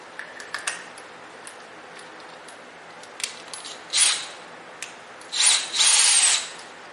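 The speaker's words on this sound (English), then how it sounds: "I'm going to drill this directly into the downspout" Power drill boring into a rain barrel downspout, a few short high-pitched whirring bursts, faint ticks and clicks between them, fairly quiet and close with no talking.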